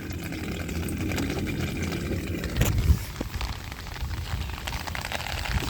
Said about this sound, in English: All the water is running down.